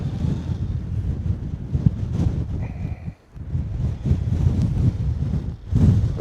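Strong wind buffets the microphone on a foggy Dartmoor moor, a loud, continuous low roar with gusty swells and one brief lull.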